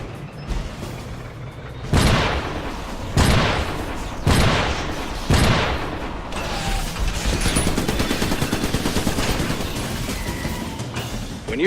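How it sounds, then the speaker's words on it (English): A shotgun turret firing in the video game Iron Brigade on a beach: four heavy booming blasts about a second apart, followed by a dense, sustained roar of battle noise. "Shotgun turret inbound to your location."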